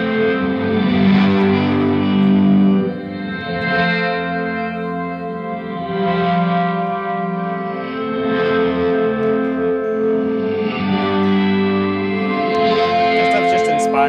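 Electric guitar played through an expensive effects pedalboard gives a thick, distorted, chorus-washed tone, with sustained notes swelling and fading in slow waves for the whole stretch.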